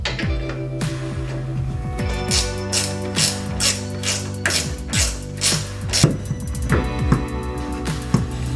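A ratchet clicks steadily while loosening a body mount bolt on a first-generation Toyota Tacoma pickup, with rapid repeated pawl clicks in bursts and occasional louder knocks, close and continuous.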